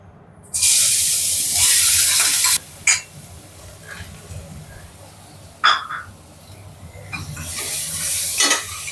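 Loud sizzling erupts as shallots hit hot oil with fennel seeds, then settles into softer crackling frying with occasional stirring clinks and another hiss near the end.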